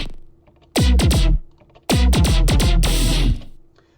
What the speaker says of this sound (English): This is just your average super saw